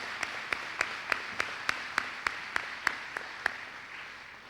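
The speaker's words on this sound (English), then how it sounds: "Let's give them a round of applause." At an adult education commencement, about a dozen evenly spaced, distinct claps ring out in a slow steady rhythm over a soft room murmur, sounding like a small group clapping in unison.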